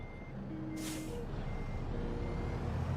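Truck reversing beeps in American Truck Simulator: a steady tonal alarm repeats over a continuous engine rumble, with a brief hiss like an air brake release near the start.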